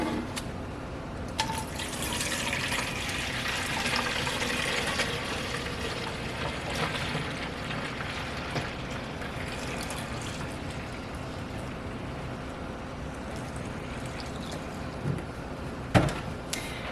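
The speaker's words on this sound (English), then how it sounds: "And we're gonna add that water back that I took out." Water poured back into a plant fertilizer mix in a container: a continuous splashing, trickling pour that runs steadily for most of the stretch, with a couple of clunks near the end.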